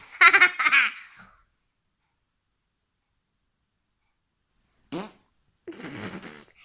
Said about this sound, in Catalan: S'ha tirat un pet